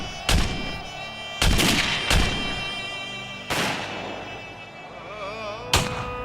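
Gunfire effects in a light and sound show at the Jallianwala Bagh memorial ring out as several loud, sharp booming shots spaced irregularly over a few seconds, each with a long echoing tail.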